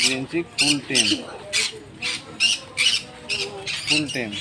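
A green-cheeked conure gives a rapid series of sharp, harsh squawks in uneven bursts, close and loud, with brief pauses between calls, at a pet market.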